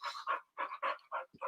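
A small, older pug dog pants in quick, close, regular bursts of breathy huffs, with a brief low snort near the end and no talk over it.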